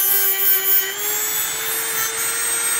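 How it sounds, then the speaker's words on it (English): An 80-grit sanding attachment on a Dremel rotary tool working on stand-up jet ski parts gives a steady, high motor whine with a strong tonal hum, close and continuous throughout. "clean them up a little bit, just make them a little better than what it is with this Dremel tool. Got a 80 grit on there"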